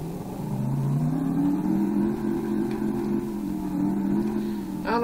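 A freshly rebuilt engine with a faulty starter, on a wheelie-attempt vehicle, revs up slowly and steadily. Its droning tone climbs gradually in pitch, loud and close throughout.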